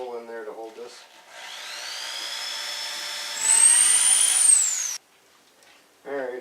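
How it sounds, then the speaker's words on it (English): A power drill bores a screw hole in wood while building a portable greenhouse on wheels, with a steady whine rising in pitch over about four seconds before cutting off, and brief talk before and after. "I'm going to drill a screw hole in there to hold this."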